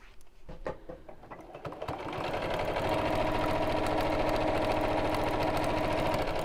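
A sewing machine stitches steadily around the edge of a fabric project, its fast mechanical whir starting after a few handling clicks and then running loud and continuous, close to the microphone.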